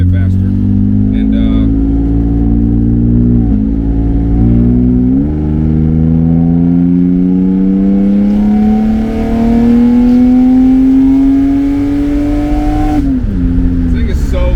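BMW E36 convertible driving on a main road, its engine droning loud and close with rising pitch as it accelerates through gears, easing off briefly between shifts, with a voice talking over it.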